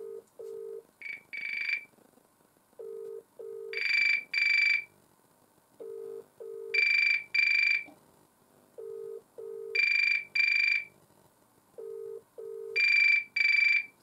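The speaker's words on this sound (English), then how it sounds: "the trim phone ringer, as I mentioned, has four settings" A GPO trim phone ringer from a 1980 R82 Special Range Mickey Mouse dial telephone warbles on its loud setting in repeated paired electronic bursts, each pair followed by a pause, loud and close with no talking.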